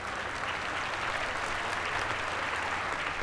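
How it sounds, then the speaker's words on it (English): Steady, dense applause fills the room at a recognition ceremony, with an audience clapping continuously at an even level throughout. "Let's give her a round of applause."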